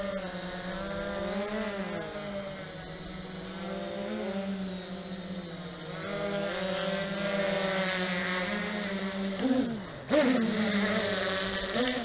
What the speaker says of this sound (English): Just love the way those props sound.